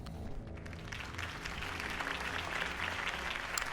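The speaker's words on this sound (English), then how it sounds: "could have heard that applause" In Batman: The Telltale Series, a crowd applauds with steady, dense clapping that holds fairly even throughout and swells slightly toward the end, faint and distant in the mix.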